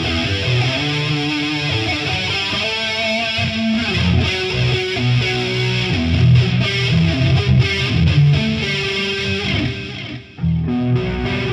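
An electric guitar plays through a HeadRush unit with a chorus effect, giving a continuous shimmering, slightly driven passage of chords and single notes with a brief dip near the end. The playing fills the space, with no talking.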